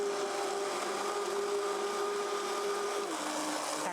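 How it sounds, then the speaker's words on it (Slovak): A blender whirs steadily for a few seconds, mixing a cooked dish to thicken it, with a continuous close motor drone and a slight shift in pitch near the end. "to zmixujeme, počkajte, aby bola trošku hustejšia"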